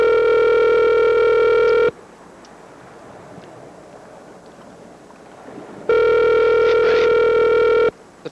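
Loud ringback tone of an outgoing phone call, one long steady ring of about two seconds, a roughly four-second silence, then a second identical ring, with no talk.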